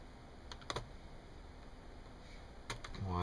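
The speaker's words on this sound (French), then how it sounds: "il y a des petits clips hein, qu'il faut pousser simplement sur le haut" A few light plastic clicks and taps as the keyboard retaining clips of an ASUS X53S laptop are pushed in during disassembly, heard up close in short bursts separated by quiet gaps.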